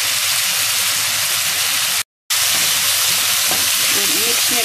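Chicken and string beans stir-frying for adobo, a loud, dense sizzle that cuts out abruptly for a moment and then resumes just as strongly.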